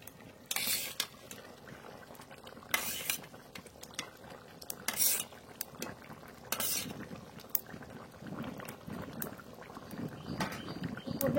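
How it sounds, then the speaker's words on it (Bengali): Fried rupchand (pomfret) fish pieces go into a bubbling potato curry, with a steady boil underneath and sharp clinks and scrapes of a utensil against the pot as it is stirred, close up and alone. "এবার ভেজে রাখা রূপচাঁদ মাছ দিয়ে দেবো"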